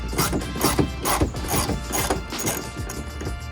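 A 1/4 inch ratchet with a 10 mm socket removes bolts from a 5th gen 4Runner, giving quick rhythmic ratcheting clicks and scraping strokes up close in repeated short bursts.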